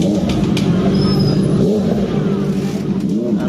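Engine of a Honda motorcycle in busy street traffic in Tondo, Manila, droning steadily at close range with rising revs amid the continuous rumble of surrounding vehicles.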